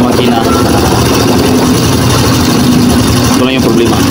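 A Honda XRM125 motorcycle idles close by with a steady engine drone, and a light rattle rises from under the engine throughout.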